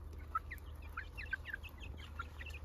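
Soft, scattered clucks from a few chickens at a distance over a steady low hum, with short chirpy calls spread irregularly through the clip.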